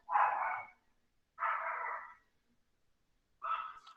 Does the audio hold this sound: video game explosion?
no